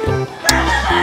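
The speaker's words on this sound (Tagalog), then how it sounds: "Tingnan niyo yung manok ko." A rooster clucks loudly and close by in a short run of throaty calls, with a brief sharp burst in the middle.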